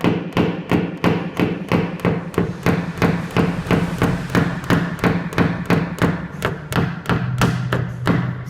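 Small hammer tapping a pin tool against a dent in a car body panel during paintless dent repair. Quick sharp metallic taps come in a steady, even series, loud and close, with no talk.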